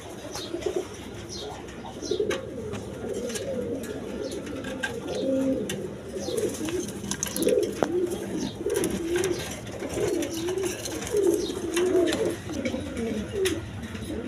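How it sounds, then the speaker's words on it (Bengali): A pair of White Danish pigeons coo over and over at close range, with soft throaty calls rolling one after another and faint chirps and rustles around them. "এখানে এক পেয়ার কবুতর আছে"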